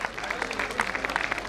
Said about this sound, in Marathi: टाळ्यांचा जोरदार गजर.